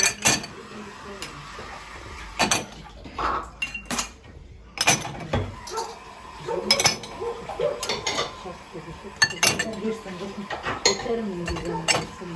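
Dishes, glasses and cutlery clink and clatter as they are unloaded from a dishwasher and set down, irregular knocks and chimes close by, with occasional faint voices.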